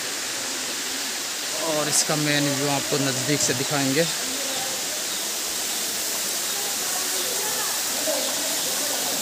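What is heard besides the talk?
waterfall at Garwa Ji temple, Alwar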